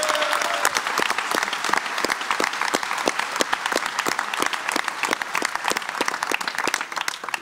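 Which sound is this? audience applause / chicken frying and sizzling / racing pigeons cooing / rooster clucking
audience applause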